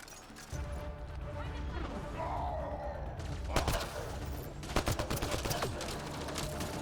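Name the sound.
gunfire in the video game Mass Effect: Andromeda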